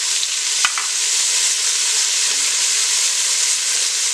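Onions with green chillies added fry in a pan, a steady broadband sizzle throughout with a brief sharp clink of a utensil near the start and faint stirring scrapes, no voices.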